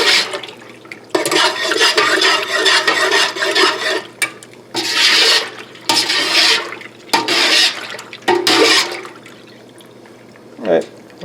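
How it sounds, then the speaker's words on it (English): Beer wort in a stovetop pot is stirred vigorously to chill it, giving loud sloshing, swirling water in repeated surges separated by brief pauses. "a constant stirring is by far the easiest way to chill it down."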